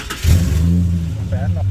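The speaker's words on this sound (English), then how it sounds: "Alright, we'll do a warm start, see how it starts up. The new extractors." A warm engine start on a car fitted with new Pacemaker 4480 headers: a brief crank catches and settles into a steady, deep idle burble, close and loud.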